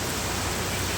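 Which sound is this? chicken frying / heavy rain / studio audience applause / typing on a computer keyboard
heavy rain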